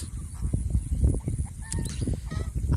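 Ducks at a duck farm in Mohanganj, Netrokona, keep up a dense, close, overlapping chorus of honking quacks, with shuffling and soft thumps from the flock underneath.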